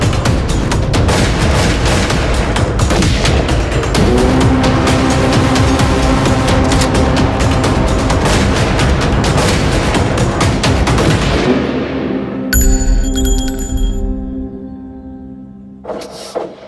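Dense, loud gunfire rattles continuously for about eleven seconds in heavy overlapping bursts, then breaks off into quieter scattered sounds and a last short bang near the end.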